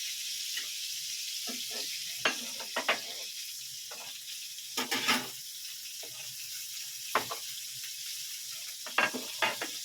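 A fish steak sizzles steadily in a hot pan over a small flame, with a constant hiss and occasional sharper pops and spatters, close and alone with no voices.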